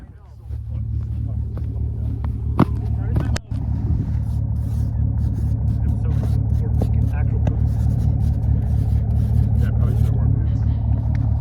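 A Chevy Avalanche truck fitted with a new exhaust rumbles steadily while drifting through deep snow over ice. The engine drone stays loud and close throughout, with a brief sharp knock near the start.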